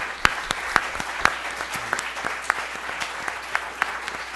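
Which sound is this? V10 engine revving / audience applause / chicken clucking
audience applause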